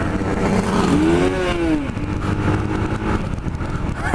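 A motorcycle engine revs up close, a rising whine that peaks and hits the rev limiter, then settles back into a rough, throaty running sound.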